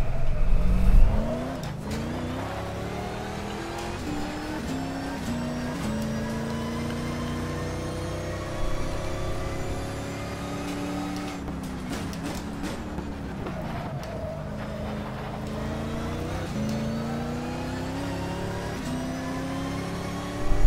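A race car engine in the racing game Race 07 at Imola circuit drones loud and alone, its pitch rising through the gears and dropping at shifts for braking, then climbing again in a steady continuous whine.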